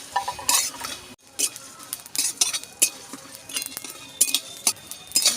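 Coriander, fennel, panch phoron and cumin seeds roasting in a pan, with a light crackle beneath frequent sharp clinks and scrapes of a spoon stirring against metal.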